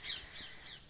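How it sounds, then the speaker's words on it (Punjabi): Domestic pigeons kept in pairs at a home loft give three short, close squawking calls in quick succession, with no talking. "ਕਾਕੇ ਕਿੱਲੇ ਵਾਲਿਆਂ ਦੇ ਕਬੂਤਰ ਨੇ ਜਿਹੜੇ ਆਪਣੇ ਕੋਲ।"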